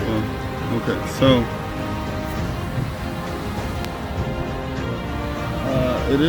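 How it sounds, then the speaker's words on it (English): Steady rain falls outside a Prevost H3-45 Entertainer coach, a constant broadband patter with a generator running, overlaid by a voice speaking intermittently throughout. "it is a rainy day"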